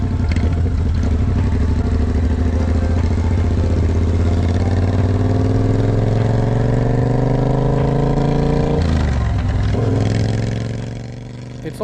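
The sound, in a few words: Triumph Bobber motorcycle engine revving under throttle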